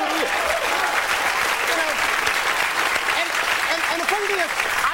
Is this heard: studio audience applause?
yes